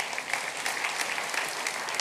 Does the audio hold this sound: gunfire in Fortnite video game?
no